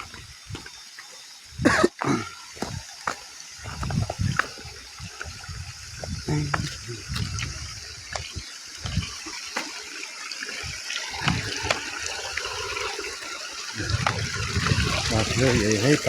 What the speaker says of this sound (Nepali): यही है पानी।